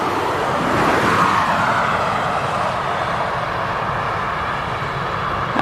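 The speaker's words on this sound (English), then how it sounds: "it's traffic you can hear. We're next to a busy road." Steady traffic noise from a busy road near an airport, a continuous broadband rumble of passing vehicles heard from above the roadway, fairly loud and unbroken with no talk.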